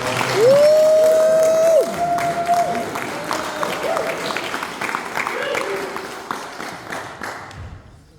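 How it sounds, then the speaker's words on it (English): A crowd applauds with steady, dense clapping that fades gradually toward the end, with a brief whistle-like tone near the start. "if you guys could give him a round of applause"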